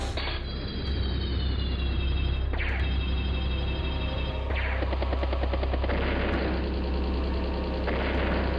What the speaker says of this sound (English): Artillery barrage just running on in.